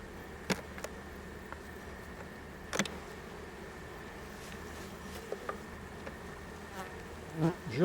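Honeybees around an opened hive during a chestnut honey harvest, with a steady low insect drone throughout and a few faint clicks and knocks of beekeeping work.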